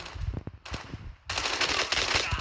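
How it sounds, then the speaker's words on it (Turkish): Automatic gunfire from a Call of Duty battle royale match, with short rapid bursts early on, then dense sustained firing and explosions filling the second half, loud and close with no talk over it. "Adam var sıkıyor ama nerede?"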